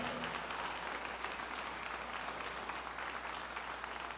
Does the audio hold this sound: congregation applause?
yes